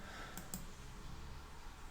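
A computer mouse gives two quick, sharp clicks in close succession early on, then a quiet room hum continues.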